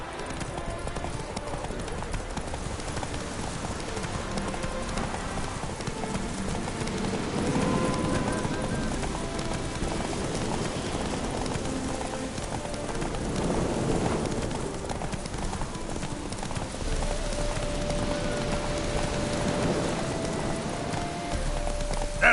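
Roach, the horse in a Witcher game, gallops steadily for a long stretch, a rapid drumming of hooves set in outdoor game ambience with light rain-like patter and faint birds, and some speech briefly in the mix.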